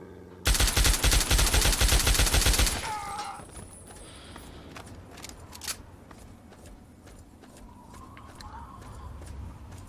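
Rapid assault rifle gunfire from Fallout 3 rattles out in one loud sustained burst of about two seconds near the start, then stops, leaving a quiet game backdrop with a few faint clicks.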